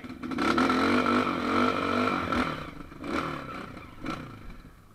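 A motorcycle revving hard as it climbs a dirt trail, the engine loud and close with rising and falling throttle, then clattering and scraping as it eases off.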